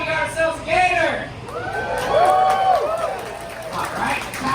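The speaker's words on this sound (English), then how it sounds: "All right, the crowd goes mild." An audience at an outdoor alligator show at Gatorland in Florida cheers and whoops continuously after a gator is caught, with shouting voices mixed throughout.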